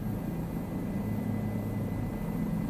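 A Pilatus PC-12 turboprop flies past in a flight simulator, a steady, loud droning engine roar with a low hum and a constant high whine, heard alone without talk.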